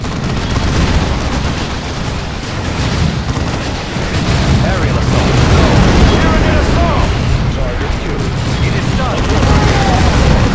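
Loud gunfire and explosions from the Warhammer strategy game Dawn of War II form a dense, continuous roar of booms and shots, with battle voices mixed in.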